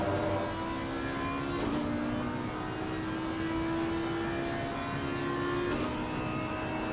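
An Audi GT3 race car in Assetto Corsa Competizione gives a steady, droning onboard engine note that holds and shifts pitch slightly as it runs at speed, with no talk over it.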